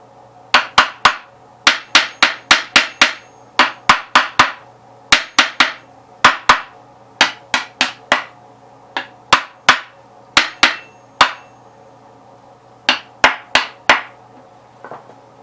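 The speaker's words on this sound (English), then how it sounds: "I like to keep tapping in on the brake shaft" Hammer taps on the brake shaft of a Gravely 8-speed transmission during PTO removal, sharp metallic strikes in quick irregular bursts of two to six, close and loud, with short pauses between groups.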